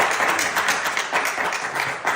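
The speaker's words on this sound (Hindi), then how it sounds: "तालियां मारो भी ताली।" A small group of people clapping together with a steady patter of hands, fairly close and continuous throughout.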